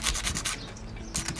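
Hand sanding the glazed surface of John Deere JS63C lawnmower clutch parts produces quick rasping back-and-forth strokes, close and bright, with a brief pause before another stroke.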